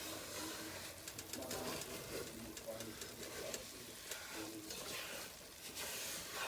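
Faint, soft sizzle and crackle of halva mixture sauteing in oil, with light stirring and scraping throughout.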